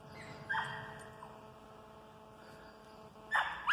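A dog gives a couple of short whimpering yips, one early and one near the end, over a steady electrical hum at a forest campsite with an electric hookup.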